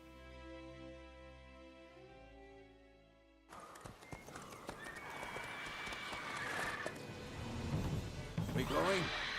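A horse gallops in The Witcher 3, with rapid clip-clop hoofbeats and a neigh emerging after a quiet musical opening, joined by loud crashes and shouting voices toward the end.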